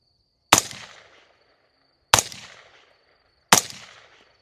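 Three loud, sharp suppressed gunshots from a 5.56 AR rifle fitted with an Acheron LTX suppressor, evenly spaced about 1.5 seconds apart, each with a short ringing decay and no talk.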